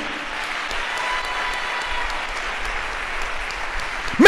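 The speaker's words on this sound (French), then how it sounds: "Acclame bien." A church congregation applauding at a sermon: steady, even clapping from a crowd filling the room throughout, with a slight swell near the end.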